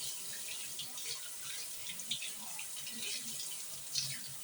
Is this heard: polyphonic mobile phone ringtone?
no